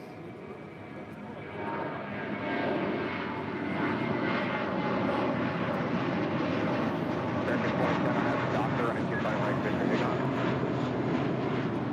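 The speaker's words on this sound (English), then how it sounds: "Spirit Airlines Flight 470 coming in from Dallas," A Spirit Airlines A320 in from Dallas–Fort Worth arrives at LAX, its engine roar swelling and then holding loud and steady, fairly close, with no break.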